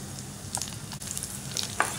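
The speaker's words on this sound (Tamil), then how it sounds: "நெய் காயட்டும். இப்போ நட்ஸ் வந்து இதில் போட்டுக்கலாம்." Nuts frying in heated ghee for dates burfi, a continuous soft sizzle with light crackles and a scrape or two of stirring, close up and alone.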